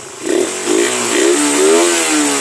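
A Suzuki Raider 150 carburetor motorcycle engine revs up in repeated loud surges toward high RPM, each climb rising and falling before a longer sustained high rev, close and alone.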